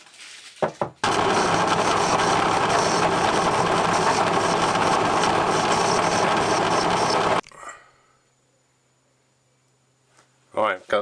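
A lathe turns the crankshaft of a Stuart 10V model steam engine with a high speed steel cutter, giving a loud, steady grinding hum for about six seconds that stops sharply, followed by quiet with a few clicks and handling sounds.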